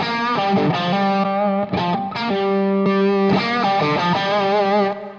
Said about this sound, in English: So you heard that nice boost.